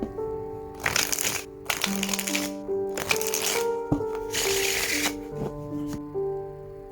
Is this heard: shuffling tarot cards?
yes